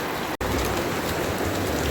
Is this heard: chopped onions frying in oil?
no